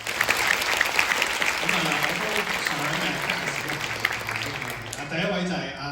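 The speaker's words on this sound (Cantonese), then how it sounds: "掌聲。" A theatre audience applauding at the curtain call of a mystery play, dense sustained clapping filling the room for several seconds while someone speaks over it, the applause thinning out near the end.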